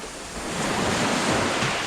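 Sea waves at a beach in Cavtat, Croatia make a continuous loud wash of surf that swells slightly, mixed with wind buffeting the microphone, and nobody speaks.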